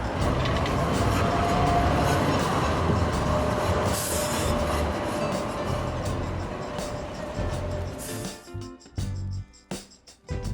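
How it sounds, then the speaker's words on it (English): A Sheffield Supertram tram rolls along city-centre rails with a loud, steady rumble and a faint wheel squeal, the noise thinning and breaking up near the end as it passes. "Our other local tracked vehicles, the Super Tram, are still in popular use in Sheffield Centre."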